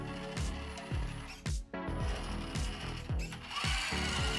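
A cheap ready-to-run scale RC Jeep's drivetrain turns at low speed, giving a steady ratcheting gear whir that rises and falls with repeated throttle pulses, close and fairly quiet, with no talk over it.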